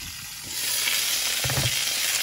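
Potstickers frying in oil in a pan, a steady close sizzle that grows louder after a brief quiet start, with a soft thump partway through.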